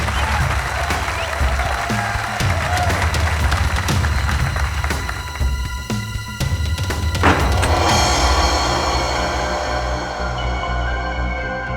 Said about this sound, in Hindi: तालियां, बहुत अच्छे